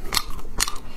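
A crunchy chocolate ball with crispy pearls inside is bitten, giving two sharp, close crunches about half a second apart, with a third starting at the very end and no talking.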